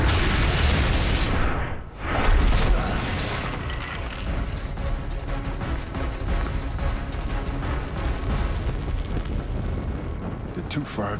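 Huge explosion of a warehouse full of fireworks in an action scene, a dense, sustained roaring rumble with crackling bursts that swells after a brief dip and stays loud throughout.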